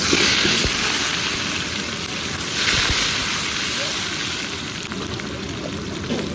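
Bay leaf, cumin, dried chilli and onion frying in hot oil for biryani, a steady broadband hiss and crackle running close and continuous throughout, with a brief louder swell in the middle.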